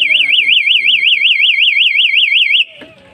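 A fire alarm siren goes off during an installation test, a loud warbling electronic wail rising and falling rapidly for a few seconds before cutting out abruptly, with people talking underneath it.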